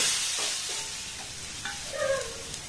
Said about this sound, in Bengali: লবণটা দিয়ে একটু নাড়াচাড়া করে নেব। তারপর ঢাকা দিয়ে গ্যাসের ফ্লেমটাকে লো করে এটাকে একটু আমি ভাজা ভাজা করে নেব।